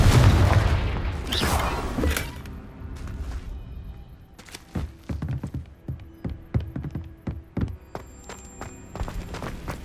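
A Confringo fire spell goes off in Hogwarts Legacy with a loud booming blast, followed by scattered impacts, clanks and debris sounds.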